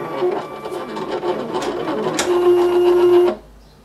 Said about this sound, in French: Alors c'est une machine assez bruyante.